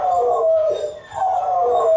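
A dog left home alone howls in two long, mournful wails separated by a short pause, loud and close, with a slight whimpering quality.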